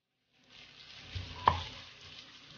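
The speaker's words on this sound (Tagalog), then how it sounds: "Gisahin muna natin yung ating bawang, luya, bawang," Garlic, ginger and onion sautéing in a pan, a soft sizzle rising after a moment of quiet, with a single sharp clink of a utensil near the middle.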